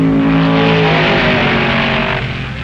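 Hot rod cars drag racing at a 1958 NHRA event roar hard down the strip, a loud, dense engine blare with a rising pitch that fades slightly toward the end, no talking.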